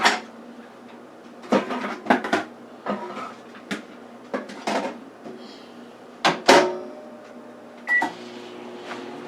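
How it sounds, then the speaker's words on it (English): A kitchen microwave oven is loaded with stuffing ingredients: clattering knocks and a door thud, then a single beep, after which a low, steady hum of the running oven sets in. "I'm going to put this in the microwave"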